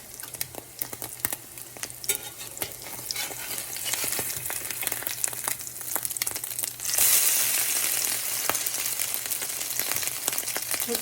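Meat patties bound only with egg fry in a pan on a stovetop set to medium, with a steady close sizzle, crackling pops and a brief louder burst of spitting fat partway through, and no talking.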